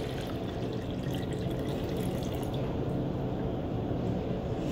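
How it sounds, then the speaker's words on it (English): Water pours steadily from close by back into a soda bottle container during a soil science lab setup, a continuous splashing gush with no pauses and no voices. "So I'm gonna pour this water back into the container."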